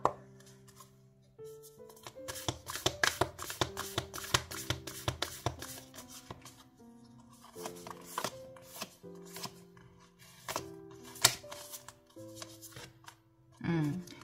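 Oracle cards are shuffled and handled during a weekly tarot reading, giving quick repeated riffling and flicking bursts close up, with soft tonal music running underneath throughout.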